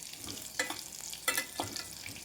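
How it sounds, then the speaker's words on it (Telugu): Cut dry red chillies fry in hot oil for a Rayalaseema dal, with a soft steady sizzle and a few louder stirring scrapes close by. "ఎండుమిరపకాయలు కూడా ఈ నూనెలో బాగా వేపుకోవాలి, మాడిపోకూడదు."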